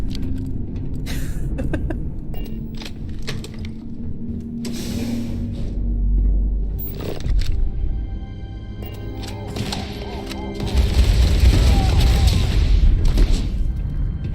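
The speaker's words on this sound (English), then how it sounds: "A lot of shooting coming from a lot of different directions." Gunfire from many directions in the space game Starfield: scattered sharp shots and bursts with booming impacts over a rumbling background, growing into a loud, dense roar near the end.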